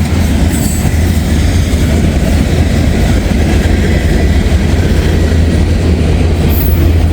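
A Norfolk Southern freight train rumbles past at close range, loud and continuous, with heavy wheel noise and faint squeals over a steady low drone.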